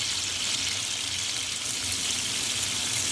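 Tequila lime steak sizzling in a pan, a steady, dense hiss that holds evenly throughout at close range, with no voices.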